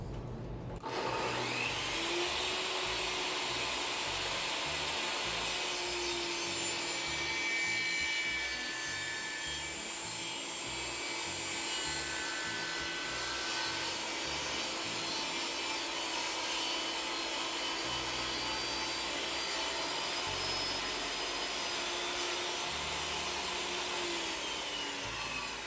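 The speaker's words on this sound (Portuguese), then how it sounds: "Vamos testar agora o barulho cortando um pedaço de madeira do mesmo tamanho, da mesma espessura nas duas serras." A Bosch GTS 10J table saw cuts a piece of wood: a steady, loud motor whine with a grinding, rasping blade-in-wood sound running continuously for about twenty-five seconds, with no talk.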